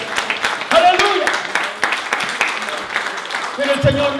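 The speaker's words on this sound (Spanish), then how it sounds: "Dale un aplauso al Señor en esta tarde." A church congregation applauding during a Spanish-language sermon, dense clapping under continuous talk and a raised voice, steady through the whole stretch.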